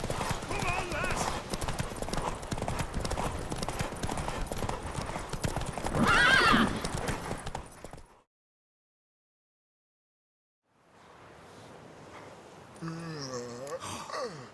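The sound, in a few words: horse galloping from a video game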